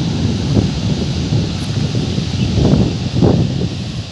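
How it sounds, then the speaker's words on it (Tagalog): Gusty wind blowing hard across the microphone at Umm Bab beach in rising and falling bursts, with a constant low rumble and faint rustling. "malakas ang hangin"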